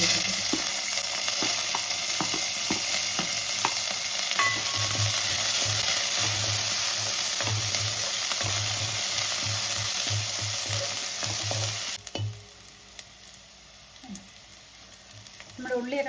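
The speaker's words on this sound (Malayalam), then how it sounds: "ഇനി നമ്മുടെ ഉള്ളിയും കൂടി ഇട്ടിട്ട്" Sliced onions sizzle loudly with beef in a pan, a dense hissing fry broken by scraping stirs and clatters that drops abruptly quieter near the end.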